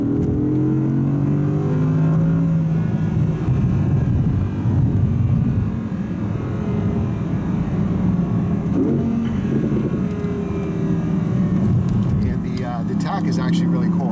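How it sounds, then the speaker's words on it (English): Engine of a 2017 Audi R8 V10, mid-mounted right behind the cabin, droning loud and steady from inside the car while driving, with brief shifts of its seven-speed dual-clutch gearbox and no talk. "Hopefully you can tell from the sound, but the engine's right behind our head."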